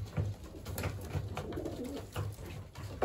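Racing pigeons coo steadily around a bath pan, low throaty calls repeating close by with faint fluttering and splashing mixed in, no voices.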